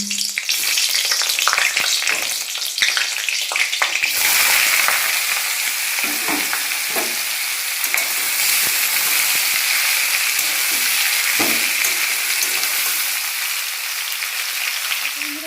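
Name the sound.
green chillies frying and sizzling in a wok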